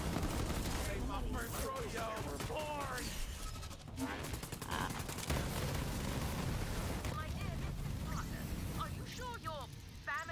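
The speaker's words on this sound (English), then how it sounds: "Explosions." Dense explosions and rapid gunfire from the video game Borderlands 3 rumble continuously, with players talking over the action throughout.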